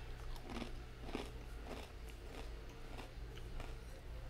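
Crunchy, warm beiju cassava flatbread being bitten and chewed up close, with steady repeated crisp crunches over a low background hum.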